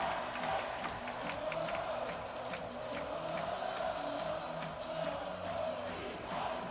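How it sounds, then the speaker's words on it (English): Penn State football fans in a stadium crowd during a game against Michigan, a broad continuous roar of cheering with rising swells, distant and steady, with a faint commentator voice underneath. "The Penn State fans were cheering for no apparent reason."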